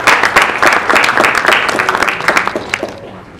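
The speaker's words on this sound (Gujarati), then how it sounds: "એમને તાળીઓને ગડગડાટથી વધાવીએ" An audience at a talk gives a burst of dense hand clapping that starts strong and thins out, then fades away toward the end.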